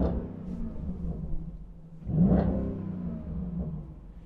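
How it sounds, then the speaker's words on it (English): A 2021 Dodge Durango R/T SUV's loud exhaust rumbles low at idle, then swells in a single short rev around the midpoint before settling back to a deep, steady burble. "listen to the exhaust."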